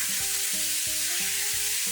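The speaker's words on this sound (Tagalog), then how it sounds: "Once na mainit na yung mantika, yung chicken, ilagay na natin kaagad-agad." Chicken frying in hot oil in a wok, a dense, steady sizzle with a regular low pulsing rhythm running underneath.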